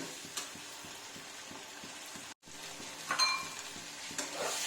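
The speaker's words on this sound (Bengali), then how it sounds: "খানিক্ষণ নাড়াতে থাকবো যতক্ষণ না এগুলোর কাঁচা গন্ধ চলে যায় ততক্ষণ একটু নাড়িয়ে নেব" Spices being stirred in a hot pan for Punjabi dal makhani, a steady close sizzle with a soft scrape of the spoon recurring every few tenths of a second, and slightly louder spattering bursts toward the end.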